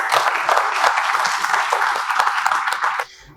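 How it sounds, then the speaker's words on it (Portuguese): Sustained audience applause welcoming a speaker at a lecture about a pirate shipwreck on Cotinga Island: dense, loud clapping from a full room that cuts off abruptly after three seconds. "a quem solicito uma salva de palmas"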